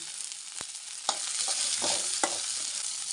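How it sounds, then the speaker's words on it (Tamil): Peeled garlic cloves stirred into shallots frying in oil for a kovakkai chutney. A steady close sizzle runs throughout, broken by a few scraping stirs, with no talking. "சின்ன வெங்காயம் வந்து வதங்கிடுச்சு இப்போ வந்து நான் வந்து ஒரு அஞ்சாறு வெள்ளைப்பூடு வந்து உரித்து வச்சுருக்கேன் அதுவும் சேர்த்துக்கிறேன்"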